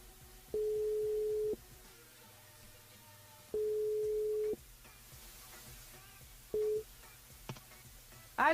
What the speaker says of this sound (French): on rappelle sur le standard Anaïs